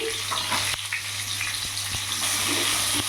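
Potatoes sputter and crackle as they fry in hot oil, a close, loud, continuous sizzle punctuated by a few sharp pops and stirring clicks.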